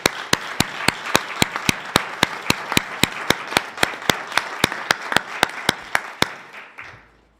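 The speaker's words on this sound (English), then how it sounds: "you deserve a big round of applause" Applause at a board of education meeting comes through as a rhythmic series of sharp, evenly spaced claps, about twenty in a row over a soft crowd bed, stopping abruptly near the end.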